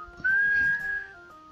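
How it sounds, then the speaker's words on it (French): A single clear whistled note rises slightly and is held for under a second as a magic melody in a Russian folktale about a flying troika, close and alone over faint background music. "Ivan, lui, siffla la mélodie magique"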